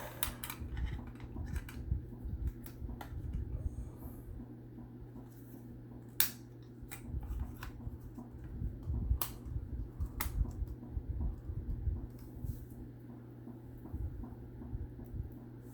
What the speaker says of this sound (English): if you're wondering what that clicking noise is, that's my ceiling fan